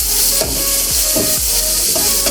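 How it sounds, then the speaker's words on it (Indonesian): Chopped chili, shallots and garlic sizzle steadily in hot oil in a pan, with stirring scrapes recurring roughly every half second to second, close and continuous. "Ini langsung dimasukin aja. Oke, kita tumis dulu."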